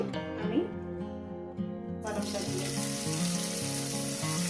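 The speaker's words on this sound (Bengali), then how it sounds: "যতক্ষণ না পালং শাকটা ভাজা হচ্ছে ততক্ষণটা আমি পালং শাকটাকে আমি ভেজে নেব" Spinach drops into hot oil and sizzles, a steady loud frying hiss that swells partway through and continues under background music.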